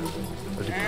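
Sheep bleating in Valiant Hearts: The Great War, a short burst of bleats mixed with someone talking over them.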